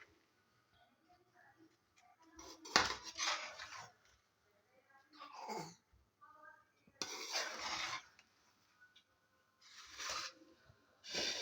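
Cooked daal and rice being served into a dish, with soft scattered clinks and scrapes of a serving spoon against the dish in irregular bursts, fairly quiet and close, with quiet gaps between.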